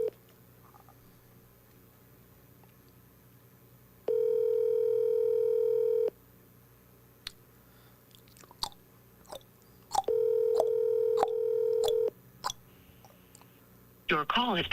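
A phone on speakerphone plays two long, steady dial tones about two seconds each, with short beeps of number keys being dialed between and after them, in a quiet room with some faint background movement.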